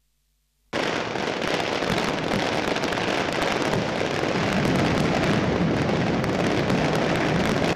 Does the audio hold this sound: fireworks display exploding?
yes